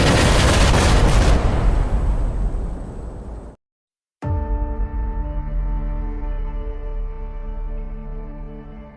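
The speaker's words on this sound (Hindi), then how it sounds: "उनकी कार के नीचे एक तेज धमाका हुआ" A loud explosion beneath a car in a dramatized audio story, a sustained roaring blast that cuts to sudden silence, then returns as a ringing, humming aftermath.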